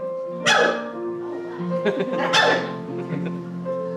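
A person imitates a cheetah with their voice, two sharp chirping yelps with short, breathy calls between them, close and fairly loud.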